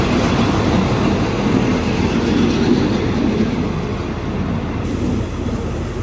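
Economy train pulling away from a station in Thailand, a loud close rumble with rolling wheel noise and faint rhythmic clatter, steady and slightly easing toward the end.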